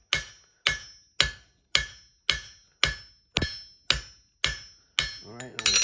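Hammer striking hot steel on an anvil while forging a three-dimensional horse head: ten sharp, ringing blows at a steady, even pace, loud and close, each decaying briefly before the next, with a scrape at the end.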